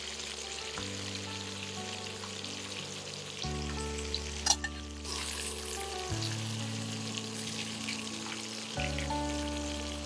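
Minced-meat cutlets sizzle and crackle steadily as they fry brown in hot oil, up close, with low sustained musical tones playing in the background.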